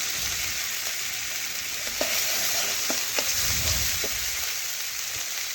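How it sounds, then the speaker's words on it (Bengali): Ginger-cumin paste and turmeric powder fry in hot oil, a steady close sizzle broken by a few light scrapes and clicks of stirring. "আদা জিরা ভালোভাবে ভেজে নেব।"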